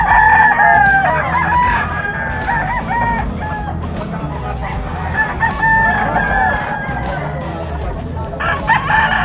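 Young stag roosters crowing at a pet market, several loud overlapping crows close by, with clucking and a busy crowd murmur underneath throughout.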